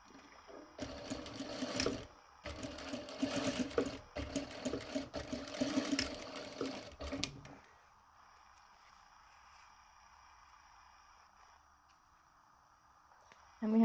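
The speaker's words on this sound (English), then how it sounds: "I am going to just stitch this one up." A sewing machine stitches a paper bag pocket, running in several close, buzzing bursts for about seven seconds with brief stops, then falls quiet apart from faint room hiss.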